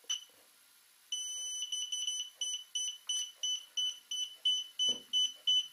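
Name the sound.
drone controller pairing beep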